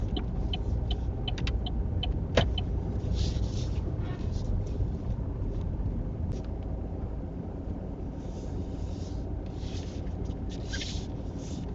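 A Tesla creeping into a parking bay during a UK mock driving test, heard from inside as a low steady cabin rumble with faint road noise and a few small clicks and knocks.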